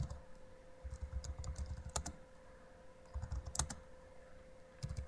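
Faint keystrokes on a computer keyboard come in short irregular bursts of clicks with gaps between them, as a container name is typed during an OpenStack and Hyper-V setup.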